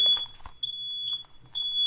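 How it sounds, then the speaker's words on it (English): A home alarm, like a smoke detector, gives three sharp high electronic beeps, evenly spaced and loud, with faint background rustle between them. "Okay, we got alarms going off."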